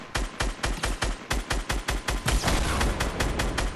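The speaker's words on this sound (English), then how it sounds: "they're shooting rockets" Rockets and gunfire in a Fortnite duos match: a rapid, regular string of sharp blasts, close and loud, firing nearly nonstop and merging into a denser barrage toward the end.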